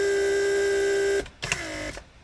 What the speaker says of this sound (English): So as we can see that the pump activates and works perfectly fine